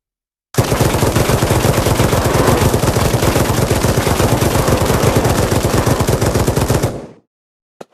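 Automatic gunfire from a VR zombie shooting game on Oculus Quest 2, a loud unbroken rapid burst of shots lasting about six seconds, then cutting out abruptly.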